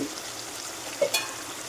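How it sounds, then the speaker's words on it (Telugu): Chicken frying village style in a pan, a soft steady sizzle with a couple of quick stirring scrapes near the end, close and fairly quiet. "చికెన్ అయితే ఇలా ఉడుకుతుంది ఒకసారి మళ్ళీ తిప్పుకుందాం"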